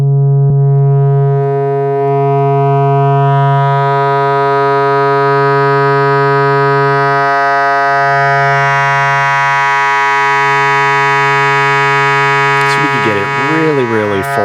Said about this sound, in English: This is just with a simple sine wave.